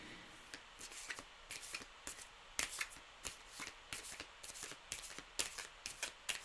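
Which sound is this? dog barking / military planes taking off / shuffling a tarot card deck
shuffling a tarot card deck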